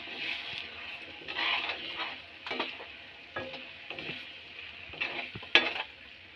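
Egg fried rice with vegetables is stir-fried in a pan at home, with a soft continuous sizzle broken by repeated scraping and stirring strokes and light clinks of a utensil against the pan.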